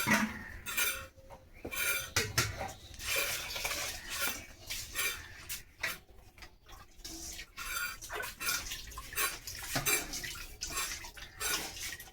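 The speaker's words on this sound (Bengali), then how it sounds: "তো আমি এখন একবারে চালটাও হাঁড়িতে দিয়ে দেবো" Rice goes into a cooking pot that already holds water, with clattering pot and utensil knocks, scraping and splashy watery movement in irregular bursts at close range.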